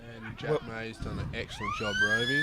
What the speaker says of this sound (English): and that is the siren for half-time.